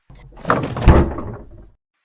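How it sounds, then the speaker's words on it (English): A door banged open with a heavy, booming thud that swells and rumbles for over a second before cutting off, close and loud, heard alone. "He banged open the door and went straight to their dining room."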